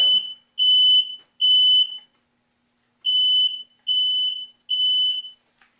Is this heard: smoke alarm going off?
yes